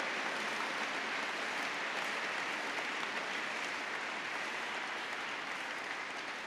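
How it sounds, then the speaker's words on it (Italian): An audience gives a fire brigade orchestra sustained, dense applause at a ceremony, a steady wash of clapping with no voices over it. "potremmo anche dedicare un applauso perché non l'abbiamo ancora fatto da quando hanno cominciato"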